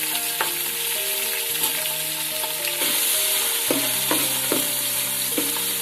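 Tomatoes frying with ginger-garlic paste and whole green chillies for chicken biryani crackle and hiss steadily up close, while a spoon scrapes and taps the pan in repeated strokes; no talking.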